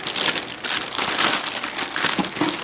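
Plastic wrapping crinkles and crackles loudly and continuously while being pulled off a Thecus N2800 NAS unit, close up with no talking.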